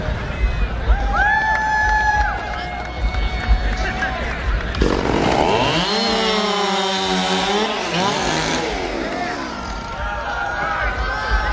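Several chainsaws start up and rev hard at a logger sports race, their whining engines rising and falling over crowd noise and cheering, with an announcer's voice heard early on.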